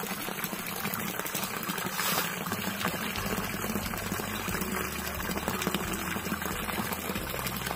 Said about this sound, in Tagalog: Oh, lakas ng tubig mga boys